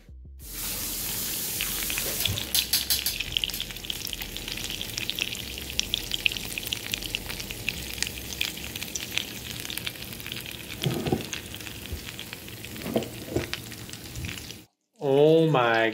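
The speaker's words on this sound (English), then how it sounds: "Listen to the sizzle in there" Steady, close sizzling and crackling of sourdough bread cooking in a hot waffle iron, continuous for several seconds before cutting off abruptly.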